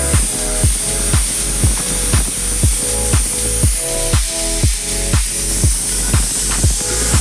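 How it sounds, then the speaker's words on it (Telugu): A pressure cooker on a stove at medium flame, cooking lentils with drumstick leaves, gives off a steady loud steam hiss broken by roughly a dozen evenly spaced sharp pulses, with no voices. "ఒక 4 విజిల్స్ రానివ్వాలి."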